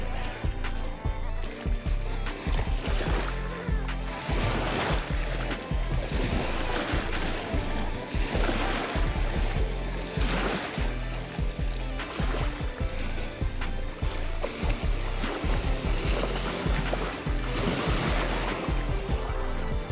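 Sea water at a quiet, hidden beach with a small island offshore, near Jamki Navapur close to Surat, splashing and lapping steadily and fairly loud throughout, with rough broadband wash and repeated small bursts, and no talking.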